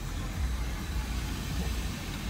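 A 2015 GMC Denali truck with a turbo and straight pipe rumbles at idle, a low, steady, fairly quiet engine drone filling the short stretch without talk.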